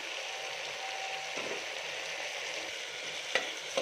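Food in a pan stirred after sauce goes in, a quiet continuous sizzle with soft scraping and a couple of brief utensil clicks near the end, close but low in level.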